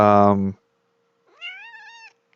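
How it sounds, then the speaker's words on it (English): A house cat meows once, a clear drawn-out rising-and-falling call heard up close after a loud burst of voice cuts off, then near silence. "no, that was my cat."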